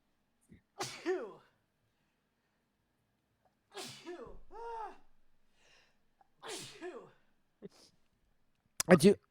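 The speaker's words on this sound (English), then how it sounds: "I'm gonna sneeze." Several sharp sneezes burst out close by, spaced a few seconds apart with short sharp breaths between them, ending in a final abrupt burst.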